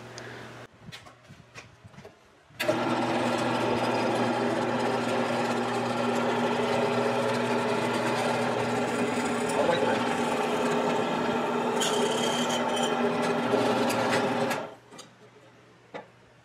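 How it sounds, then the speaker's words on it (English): An electric drill whirs steadily for about twelve seconds, boring a quarter-inch hole through the center of a whirligig, loud and close, starting abruptly and cutting off, with brief clicks before and after. "I'll drill a quarter inch hole right here in the center"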